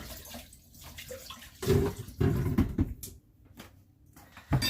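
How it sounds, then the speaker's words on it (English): Tap water runs at a kitchen sink as the bottom of a celery stalk is rinsed, coming in uneven splashing bursts with quiet gaps between them. "I'm going to go over and take it to the sink and just wash out the bottom of it"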